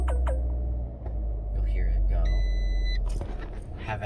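A Fiat 500 Pop with a check-engine fault sounds a single tonal warning chime at startup. The brief electronic tone rides over a low engine rumble, with a person talking around it.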